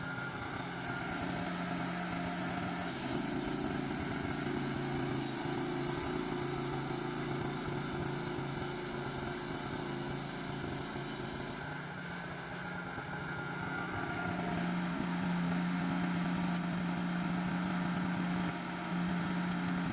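A sawmill cuts a large red pine log into boards with a steady mechanical drone. The pitch and load shift partway through as the blade works the log, and the sound stays constant without speech.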